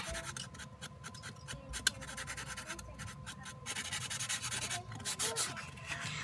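Close, scratchy rubbing of a coloring tool on a surface, continuous with quick bursts of strokes and one small tap.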